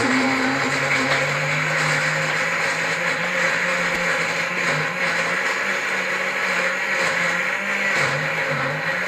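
A kitchen blender whirs continuously as it purees onion, chili pepper and parsley, producing a loud, even motor drone with a faintly shifting pitch.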